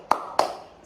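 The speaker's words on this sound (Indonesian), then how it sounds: "Yuk kita sama-sama bertepuk semangat" Two sharp hand claps in a classroom, spaced about a quarter second apart, each with a short ringing room tail and no voices over them.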